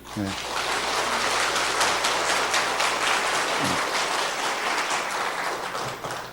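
A church congregation breaks into sustained, dense applause that holds steady and loud for several seconds before easing slightly at the end.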